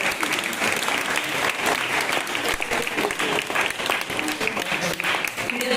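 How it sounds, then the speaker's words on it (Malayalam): Audience applause at an ordination celebration, a loud sustained round of clapping from a crowd, with faint voices mixed in throughout. "എല്ലാവരും കൈയടിക്കും."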